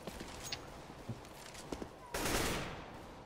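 Gunfire in Counter-Strike: Global Offensive deathmatch: scattered sharp shots crack faintly at a distance, then a louder, longer burst of shots rips out near the end.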